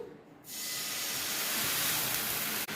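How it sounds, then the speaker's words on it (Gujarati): Water poured into a hot kadai after roasting makhana bursts into a loud, close, sustained steam hiss after a brief quiet moment, then cuts off sharply near the end. "આપણે તેજ કડાઈની અંદર બે ટેબલસ્પૂન જેટલું પાણી એડ કરીશું"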